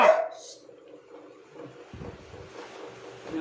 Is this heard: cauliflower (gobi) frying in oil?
no